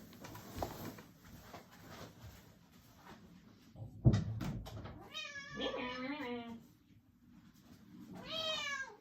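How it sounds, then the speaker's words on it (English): A pet cat meows repeatedly at a closed door indoors, several drawn-out, wavering cries close by, following a sharp door or cupboard clunk and some background shuffling. "Oh, that is my cat again."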